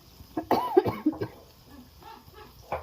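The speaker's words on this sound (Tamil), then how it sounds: "சாரி இருமல் இருந்துச்சு." A few harsh coughs burst out close by in quick succession, followed by quieter rustling and one more short throaty sound.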